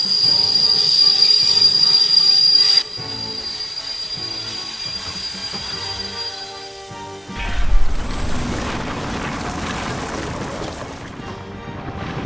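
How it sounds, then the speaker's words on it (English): A train that has lost its brakes rolls along with loud, sustained wheel squeal and metallic rumbling, shifting to heavier grinding partway through, with no voices. "how to stop a train that has lost its brakes"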